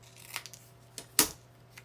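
Scissors cut a junk mail envelope in a few sharp, close snips, one louder crisp cut near the end, with light paper rustle in a quiet room.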